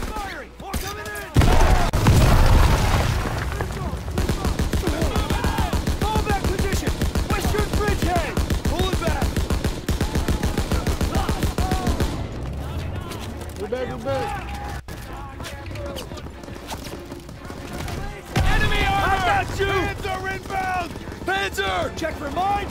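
Soldiers in a WWII video game fire dense, rapid gunfire, with bursts and single shots overlapping in a loud, steady barrage over about twenty seconds. Voices shout orders between the shots.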